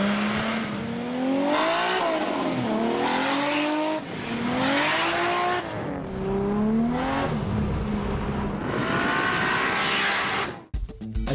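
A 2007 Nissan R35 GT-R with a 3-litre engine revs repeatedly. It runs a GT35 turbo with a .86 rear housing on a custom manifold with a 38mm external wastegate. The note climbs and falls in several loud sweeps, with a sharp cutoff at the end.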